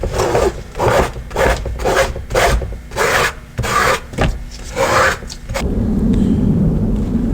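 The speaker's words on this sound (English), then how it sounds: "I'm just going along and scraping off the excess" A putty knife scrapes excess beeswax off canvas in a series of loud, rhythmic rasping strokes, about a dozen passes, then gives way to a steadier rubbing noise at the end.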